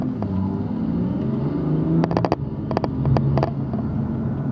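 A BMW M2 with a new loud aftermarket intake drones steadily as its engine revs, with a few sharp clicks or pops breaking through near the middle.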